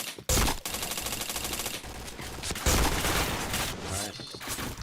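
Dense bursts of rapid gunfire from WR4 and RD1 weapons in the shooter game Point Blank, with loud automatic volleys and sharp reports crowding together over the full stretch.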